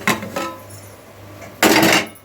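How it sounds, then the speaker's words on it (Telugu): A metal lid clanks as it is lifted off a pot of simmering Nellore fish curry, two quick knocks and then a louder clatter as it is set down. "మూత తీసి పులుసు మరుగుతుందా లేదో చూద్దామండి"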